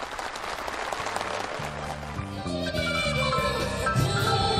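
Audience applause at a housing-permit handover ceremony in Junggang County, Chagang Province, a steady broadband clatter of many hands running throughout while music with sustained tones plays alongside.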